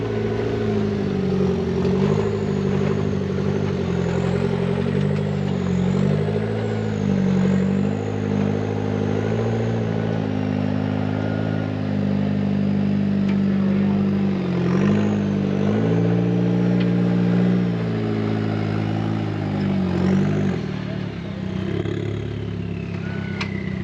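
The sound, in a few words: competition car driving over an obstacle course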